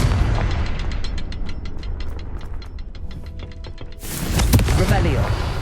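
A Confringo blasting spell in Hogwarts Legacy detonates with a loud, broadband burst that erupts after a stretch of rhythmic mechanical clicking, then lingers as a rumbling tail.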